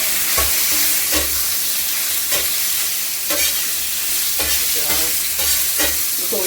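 Chicken breast and garlic fry in hot cooking oil with a loud, steady sizzle, broken by regular scraping stirs roughly every second, close up and with no one talking.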